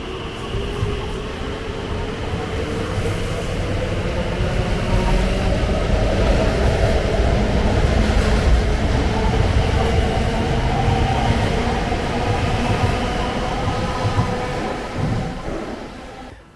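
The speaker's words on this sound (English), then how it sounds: "just to watch that service now depart on its way to Heathrow Terminal 4." An Elizabeth line passenger train pulls away toward Heathrow Terminal 4, its motor whine rising in pitch over a steady rumble of wheels on rails before fading at the end.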